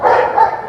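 A single short dog bark or yip, loud and close, standing alone.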